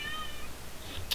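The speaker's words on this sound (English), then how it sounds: "you can hear my cat complain to me in the background." A house cat complains with a faint meow in the background, a thin wavering cry low under steady room hum.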